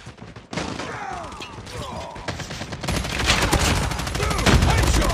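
Gunfire in Call of Duty Mobile multiplayer, rapid continuous automatic bursts growing denser and louder, with shouted voices and game callouts mixed in.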